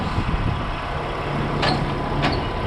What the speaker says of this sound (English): So what we first need to do is put the revs up a little bit, so I'm just going to jump it now, put the revs up.